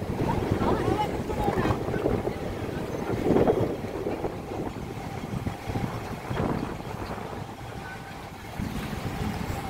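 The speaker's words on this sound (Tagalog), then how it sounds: "Lakas ng hangin." Strong wind on the Tsim Sha Tsui waterfront in Hong Kong, gusting against the microphone as a rumbling, uneven roar, with water and boat sounds in the background.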